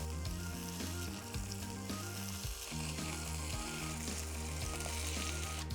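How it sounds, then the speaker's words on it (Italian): Veal slices browning in melted butter in a pan give a loud, continuous sizzle and crackle throughout, with steady background music playing beneath. "Sciogliamo il burro in una padella e quando è fuso tuffiamo le fettine e le lascio rosolare su entrambi i lati per un paio di minuti"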